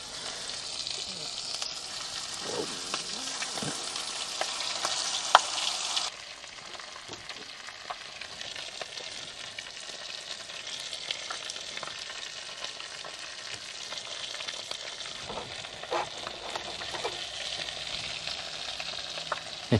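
Food fries in a pan at a campsite, giving a soft, steady sizzle with occasional crackles and light utensil sounds; a brighter hiss fades out early, and there is no talking.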